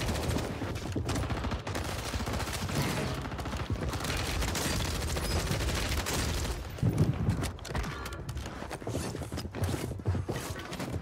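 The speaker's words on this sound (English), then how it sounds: "That was a close shot." Gunfire rings out in Call of Duty Warzone on Rebirth Island, a dense, steady wash of game shots and mechanical clatter with a louder burst near the end.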